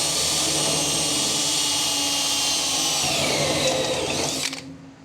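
A power drill bores out a spot weld on the firewall of a 1930 car, a loud, steady high whine that holds for several seconds, then winds down and stops abruptly.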